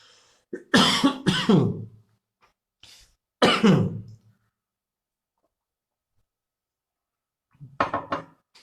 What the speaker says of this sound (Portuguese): Eu fico tossindo porque quando eu fico falando alto